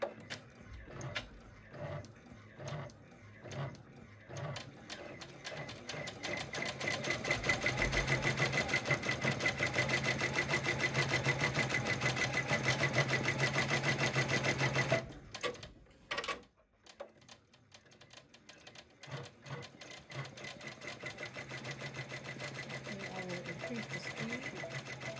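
An embroidery machine runs at a slow speed, stitching royal blue thread onto a floated bunny-ear design, a steady mechanical whir with a brief pause near the middle before the stitching resumes.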